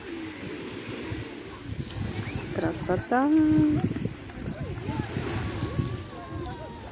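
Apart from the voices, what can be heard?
sea waves on the shore at Berdyansk in the evening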